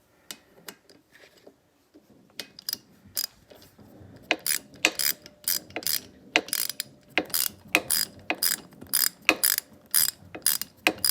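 A ratchet wrench clicks in quick, uneven bursts while tightening the valve adjustment nuts on a Yamaha Warrior motorcycle engine. The clicks are close and sharp, sparse at first, then growing denser and louder.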